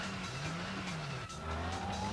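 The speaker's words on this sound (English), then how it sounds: "We're finally getting into some real action here. A car chase." Film car chase with tires squealing through a skid, a wailing screech that bends in pitch over a revving engine, loud and close, with no talk.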